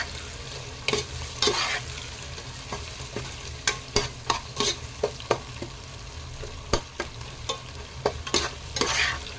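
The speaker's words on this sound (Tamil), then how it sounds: "இதையும் நல்லா வதக்கி விட்டுறலாம்" Mint and coriander sautéing with vegetables in a pan for mushroom biryani, a continuous sizzle with frequent sharp spoon scrapes and knocks against the vessel, close up, with no talking.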